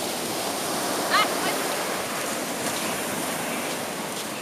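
Continuous broadband wash of ocean surf on an East Atlantic beach, steady and fairly loud, with a brief faint yelp from a spaniel barking at the waves partway through.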